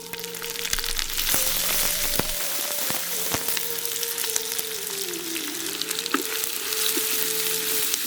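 Small shallots sizzling in hot oil with mustard seeds, dried red chillies and curry leaves, a steady close frying hiss with occasional stirring scrapes and clatters throughout.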